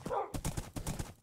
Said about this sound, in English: I now have a horse!